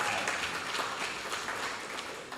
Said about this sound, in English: So I think we need to give them in particular a round of applause